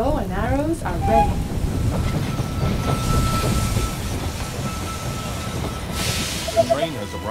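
Train pulling into a station in the strategy game They Are Billions: a steady rumbling roll with hiss and rail clatter, under short in-game voice lines.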